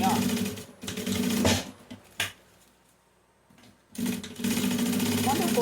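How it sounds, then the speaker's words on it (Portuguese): A sewing machine stitches fabric for a simple zippered pouch in two loud, close bursts with a quiet gap between them, while someone talks nearby. "Então, vou costurar aqui, ó."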